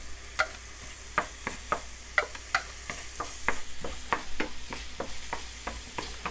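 Garlic sizzling with onions in a pan, a soft, steady frying hiss beneath a regular series of crisp spoon taps and scrapes, fairly quiet and close.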